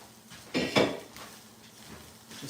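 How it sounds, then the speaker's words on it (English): A spoon stirring blueberries and sugar in a pan on the stove, a few close metallic scrapes and clinks against the pan, with faint sizzling underneath and no talk. "Just a little stir."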